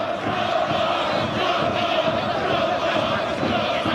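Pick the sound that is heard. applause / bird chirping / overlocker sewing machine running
applause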